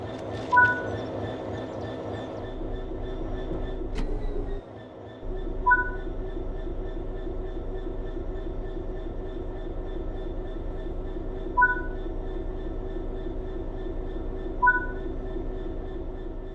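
A train rolls on rails in the Train Sim 3 video game, giving a steady, even rumble with several short, faint tonal chimes at intervals.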